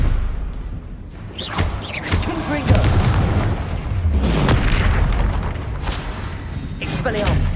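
Confringo fire spell blasts from Hogwarts Legacy boom repeatedly over game combat, several heavy explosive hits with whooshes, while a voice keeps shouting spell names over the action.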